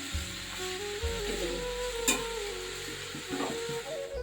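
Bottle gourd curry (lau ghonto) cooks in a pan with salt. It gives a close, steady sizzle with occasional stirring scrapes and clinks, and no talk.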